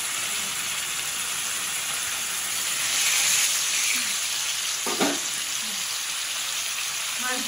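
Fish frying in hot oil in a home kitchen, a steady loud sizzle and hiss throughout with a brief stir and crackle burst near the middle, no talk over it.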